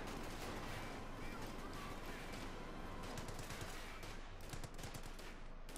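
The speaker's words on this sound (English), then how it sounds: "The medics keep firing their pistols." Medics firing pistols in the video game Company of Heroes 2 amid a dense, continuous battle din of gunfire and machine-gun bursts, with a voice talking over it.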